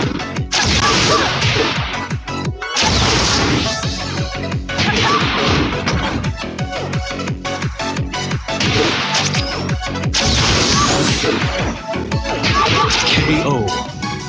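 Punches, kicks and smashing hit impacts from a Tekken fighting game round on Android, loud and dense throughout with whooshes and crashes layered over game music, with a brief pause near the start.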